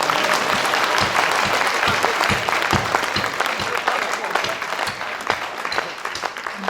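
An audience at a Hindi poetry recital (kavi sammelan) in Kotma breaks into sustained applause, dense clapping that carries on for several seconds with a few voices mixed in.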